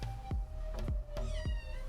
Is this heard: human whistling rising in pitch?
no